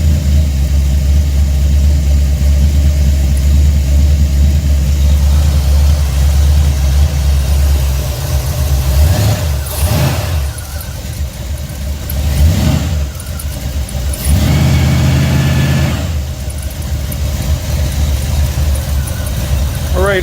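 Buick 455 Stage-1 big block V8, a 482 cubic inch stroker, held at a fast idle around 1,500 RPM, a loud close steady rumble that dips and swells a few times, with a voice speaking over it.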